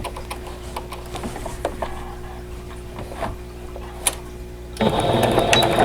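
Sewing machine quilting a pillow cover with an envelope back, stitching a big diamond along air soluble marker lines: a steady close mechanical whir and rapid needle ticking, growing louder and busier near the end.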